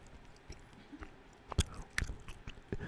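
Close-miked chewing with moist crunches and soft bites, irregular and intimate, a few louder chomps scattered over a quiet background.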